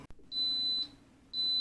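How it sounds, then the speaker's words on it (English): An Instant Pot timer beeps twice, each a long, steady, fairly loud electronic tone, with a short gap between them and a quiet kitchen behind. "My timer is just going off now after 55 minutes"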